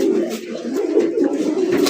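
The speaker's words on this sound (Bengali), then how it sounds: "আর এই কবুতরটার ডাকটা একটু দেখাই দেবো নিজের কাছে দিয়ে" Fancy racer golla pigeon cooing close by, a steady low rolling coo repeating through the moment with a light airy background.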